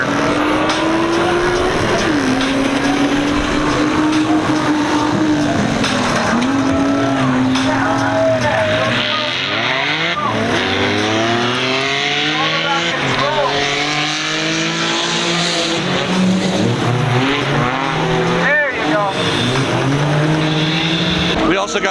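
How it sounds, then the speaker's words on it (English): A car on a slow lap of the race track at FuelFest 2023, with engine drone rising and falling through shifts and passing vehicles, loud and continuous, while a person talks over it. "One slow lap around the track first."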